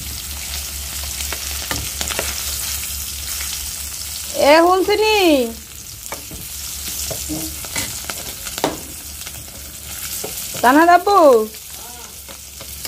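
Hilsa fish frying in a pan gives a constant close sizzle, while someone speaks briefly and two short voiced bursts rise over the hiss.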